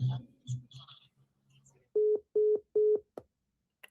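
Three evenly spaced telephone busy-signal beeps sound clearly after a caller hangs up, following a bit of faint speech at the start.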